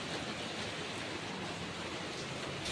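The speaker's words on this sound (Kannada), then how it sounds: "ಮಳೆ ಹೆಂಗೆ ಹೊಂಟದ ಎಷ್ಟು ಜೋರ್ಸಿ" Heavy rain pours down steadily during a Delhi downpour, a dense, even wash of noise with no breaks, fairly faint and heard alone.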